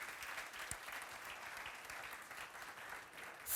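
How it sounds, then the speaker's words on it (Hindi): Sustained applause from a large crowd at an interview event with Nitin Gadkari, a dense, even patter of clapping that continues throughout. "तालियां बजनी चाहिए।"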